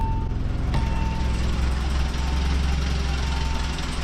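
A BMW E30 engine idles steadily at close range, a constant low rumble with a faint rhythmic knock underneath and no voices.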